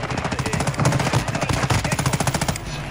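An MP5 submachine gun fires rapid, continuous bursts in the video game Warzone 2, the shots loud and close in a fast, even rhythm for almost three seconds.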